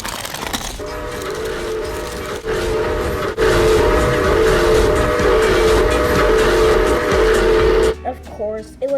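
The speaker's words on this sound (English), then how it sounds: "I cannot believe that silly train just kind of woke me up at 3 a.m." A cartoon train's steam whistle blows loud and sustained for several seconds over hissing steam, then cuts off abruptly into a brief burst of other sounds.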